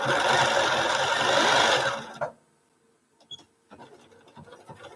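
A sewing machine stitches the edge of a placemat, running loud and steady for about two seconds before stopping, followed by faint clicks and handling noises of fabric being adjusted.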